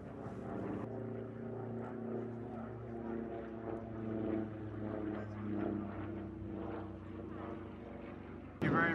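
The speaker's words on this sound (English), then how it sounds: "And Larry King and that beautiful Pitts Model 12. Circling the jumper" A Pitts Model 12 airplane circles a parachutist at an outdoor jump show, its propeller engine droning steadily at moderate distance while an announcer talks over it through a public address system.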